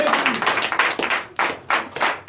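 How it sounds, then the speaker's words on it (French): A church congregation claps steadily and enthusiastically during a worship service, a dense patter of hands that swells and dips in waves. "Donnez encore plus d'acclamation au Seigneur."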